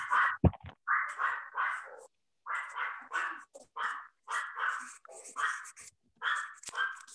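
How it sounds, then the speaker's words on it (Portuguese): A small, fierce dog barks at a house gate in a steady run of sharp, repeated barks, moderately distant, with short gaps between bursts. "Tem um cachorro muito brabinho aí."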